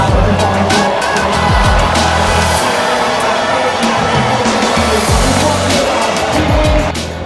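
Formula E electric race cars speed past on a London street circuit, their high electric whine and squealing tires sweeping by close and loud in repeated passes, with a crowd murmur underneath.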